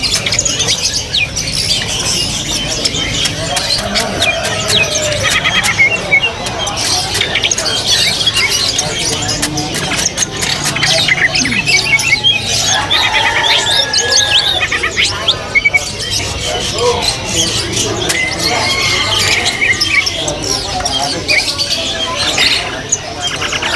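A white-rumped shama, a wild-caught ringed bird, chirps and warbles in varied bursts amid the busy chatter of other birds at a bird market, with voices talking in the background throughout.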